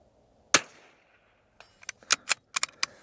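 Vudoo .22LR rifle in an MDT ACC Elite chassis fires one sharp, close crack, then a quick run of lighter clicks and clacks as the action is worked, outdoors at a range.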